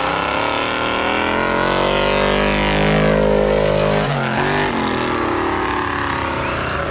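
An old Ford and a Mazda race down a snow drag strip, engines roaring loud and close, with a rising then falling pitch as they pass and pull away.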